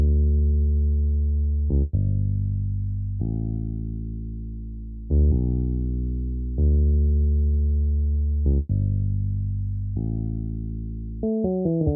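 Pickless Big Bass preset from the Expand plugin in FL Studio, playing a bass pattern that follows a guitar melody's root notes with transition notes: sustained deep synth bass notes, each held for about a second and a half, then a quick run of short notes at the end, alone and steady.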